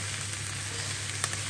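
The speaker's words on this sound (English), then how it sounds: "I will cook the mushrooms just slightly more" Mushrooms fry in a pan for a creamy garlic mushroom chicken dish, giving a steady, even sizzle with a faint low hum beneath and one brief clink near the end.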